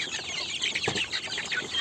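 A flock of desi chickens gathered at the feeders in the morning cluck and chatter continuously. The sound is close and busy, with overlapping calls and no talking.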